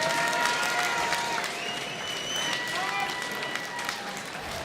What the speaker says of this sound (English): let's have a nice round of applause for both brawlers